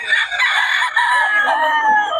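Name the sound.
roosters crowing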